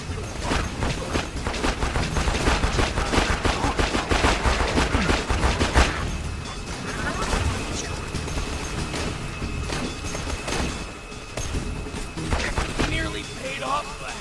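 Rapid bursts of gunfire from the video game Borderlands 2 clatter in dense, loud volleys over a mix of game effects, with a voice talking throughout.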